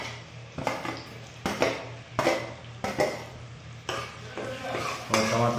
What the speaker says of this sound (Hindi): और टमाटर को भी अच्छा से फ्राई करेंगे साथ में, जब तक टमाटर गल नहीं जाता है तब तक